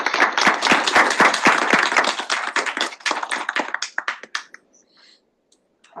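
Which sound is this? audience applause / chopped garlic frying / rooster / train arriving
audience applause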